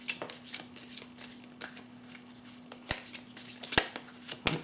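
Tarot cards are shuffled and drawn by hand, a steady papery riffle and rustle with a few sharp card snaps near the end, close and alone with no voices.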